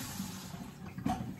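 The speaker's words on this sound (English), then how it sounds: "I'm gonna gently keep the water, the cold water running on it" Cold tap water running gently over salad greens in a kitchen sink, a soft, steady splashing stream heard fairly quietly throughout, with a brief louder splash partway.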